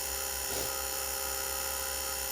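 A freeze dryer's vacuum pump runs as a steady, close electric drone with a dense buzzing hum that holds evenly throughout, without pause or change in pitch.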